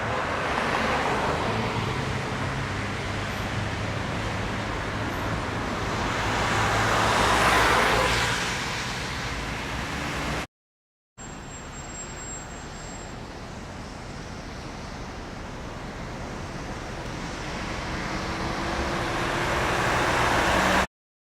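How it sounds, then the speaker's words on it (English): Road traffic around the Arc de Triomphe in Bucharest, moving slowly: a continuous broad wash of passing cars and engines that swells at times. A short silent gap breaks it midway. "the traffic hasn't exactly stopped, but it has slowed down a bit"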